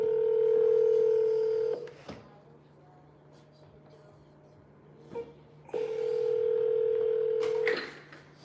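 Telephone dialing tones from a phone line during a cold call: a long steady tone, a short click-like beep, then another long steady tone, loud and close with a faint background hum and no talk.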